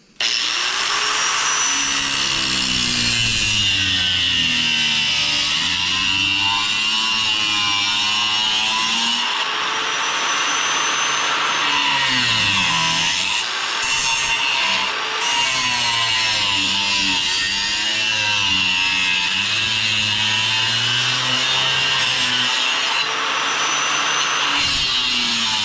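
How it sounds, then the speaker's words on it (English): An angle grinder cuts sheet metal for a rocket stove, a loud, close, continuous whine that lasts about 25 seconds and rises and falls in pitch as the disc bites and eases off, with no talking. "I'm just going to cut this out with an angle grinder,"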